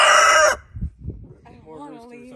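A rooster crows loudly and close for about half a second before cutting off, followed by a few low thumps and then soft, faint voices talking in the background.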